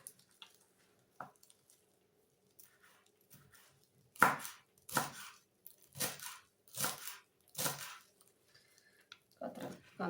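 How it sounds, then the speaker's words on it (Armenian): Fresh greens for a beetroot salad with plum sauce and pomegranate are chopped with a knife, giving several separate, moderately loud cuts in an uneven rhythm, followed by a few softer taps. "Այսպես կտրատենք նաև կանաչին։"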